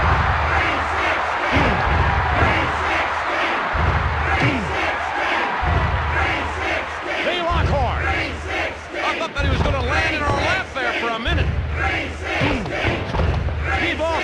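A capacity wrestling arena crowd in the video game WWF War Zone roars and chants in rhythmic surges, with repeated heavy thuds pulsing under the loud, continuous cheering.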